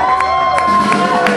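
Crowd at a live concert in the Ironworks venue in Oswestry cheering and whooping with applause, a dense, steady wash of noise with sharp shouts standing out, loud and close throughout.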